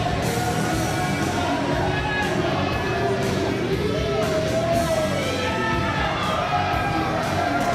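A packed wrestling audience at the Nile Theater cheers on its feet, a sustained, loud mass of whoops, shouts and voices rising and falling together.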